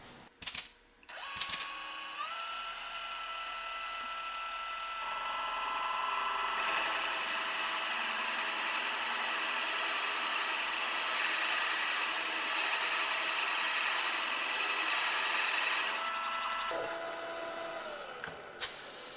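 A machine cuts valve seat pockets into a Minneapolis-Moline G1000 cylinder head, spinning up to a steady high-pitched whine with grinding chatter that holds for over ten seconds, then winds down.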